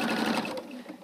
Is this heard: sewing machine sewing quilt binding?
yes